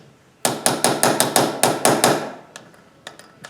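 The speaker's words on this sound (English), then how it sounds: "Got my short little hammer with a little bit of weight to it." A short, weighted hammer strikes a link pin on an EK 150-link chain for a Kawasaki ZH2: about nine sharp, evenly spaced metallic blows in quick rhythm, then a few lighter, scattered taps, close and loud.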